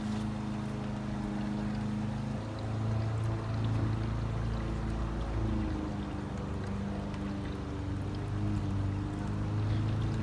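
Water pours steadily over a garden waterfall, a continuous close rushing and splashing wash with a low tonal hum underneath, unbroken and even in level throughout with no voices.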